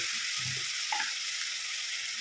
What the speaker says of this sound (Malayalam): അതിലേക്ക് ഒരു മൂന്ന് പച്ചമുളക് ചതച്ചതും കുറച്ച് കറിവേപ്പിലും കൊടുക്കും